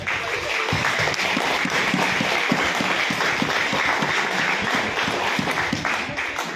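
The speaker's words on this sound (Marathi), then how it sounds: "परत एकदा चान्स देऊया, वाजवा जोरात." Loud, sustained applause from a seated audience at a Marathi stress-relief session keeps up as a thick, unbroken wall of clapping, with some individual claps standing out in a rough rhythm.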